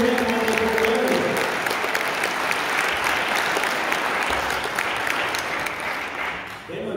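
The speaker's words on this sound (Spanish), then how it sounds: "Fuerte aplauso por los que estén" Loud, sustained applause from a wedding crowd, steady clapping for several seconds with a few voices mixed in, tapering slightly at the end.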